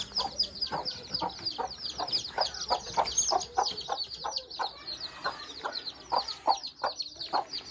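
Several chickens, including young ones, cluck close by in quick, repeated bursts inside a straw-lined chicken house, an uneven chorus of short calls with no pause.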